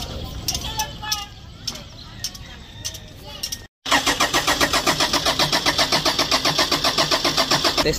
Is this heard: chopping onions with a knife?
no